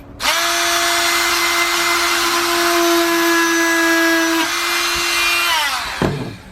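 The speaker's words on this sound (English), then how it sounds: "And I can just do that with my little Dremel tool." A Dremel rotary tool drills into a plastic AEE S71 action camera case, giving a loud, steady high-pitched whine that holds for about six seconds, dips in pitch partway through, then winds down and stops.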